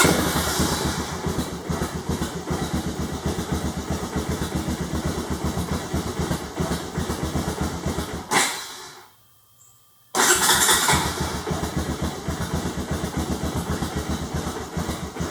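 A Honda Recon ATV with a newly installed carburetor cranks with a fast rhythmic chug, stalls into a brief near-silence, then cranks again, loud and close throughout with no talking.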